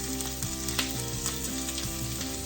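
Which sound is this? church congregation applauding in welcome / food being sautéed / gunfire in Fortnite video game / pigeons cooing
food being sautéed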